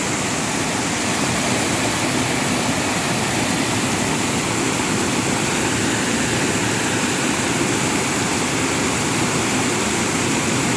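Steady, loud rushing roar of a waterfall, continuous broadband water noise without pauses or voices.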